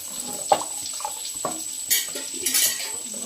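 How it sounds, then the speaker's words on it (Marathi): A spoon stirs a thinned prawn curry in a metal pot, making scattered clinks and scrapes against the sides, close and intermittent, with faint liquid sloshing between the strokes. "उकळ येईपर्यंत असं ढवलत राहायचं"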